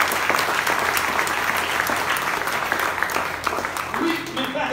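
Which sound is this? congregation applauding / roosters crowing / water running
congregation applauding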